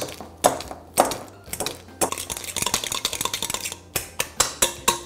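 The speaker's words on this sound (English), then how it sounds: "I'm gonna take a masher and we're just gonna mash this up" A masher works ripe bananas in a bowl, giving quick, rhythmic clinks and soft squelching taps as metal strikes the bowl, close and fairly loud, with no talking.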